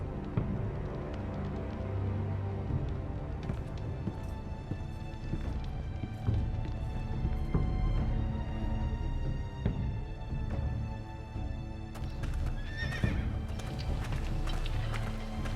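Horse hooves clip-clop steadily with occasional whinny-like cries in Telltale's Game of Thrones video game, heard over a continuous music and ambience bed.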